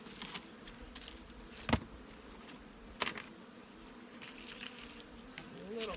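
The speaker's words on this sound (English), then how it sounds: "A little patch of bees in here." Honey bees buzzing faintly in a beehive, a soft continuous hum with a few bees zipping close past.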